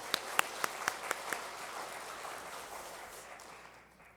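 Church congregation applauding the worship team after a Sunday service announcement, a few distinct claps at the start blending into a broad wash of applause that fades out over several seconds.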